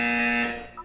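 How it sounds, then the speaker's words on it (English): A short electronic buzzer in the video game Portal 2, a loud, steady tonal blare with stacked harmonics that fades after about half a second, followed by a faint rising blip. "You will hear a buzzer."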